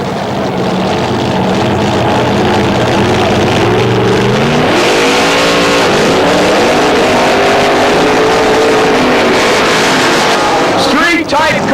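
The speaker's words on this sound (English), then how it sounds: "Street-type cars with funny car motors" Street-type drag racing cars with funny car motors roar loudly down the track, engines revving and climbing in pitch close by, with an announcer's voice faintly mixed under the din.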